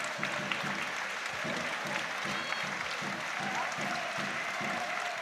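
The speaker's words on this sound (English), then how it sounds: "As Luke Supik gets a good round of applause on 76 minutes as he leaves the pitch here on his full debut" Football crowd at a National League match applauds a player leaving the pitch after being substituted, a steady wash of distant clapping across the stadium with faint background tones.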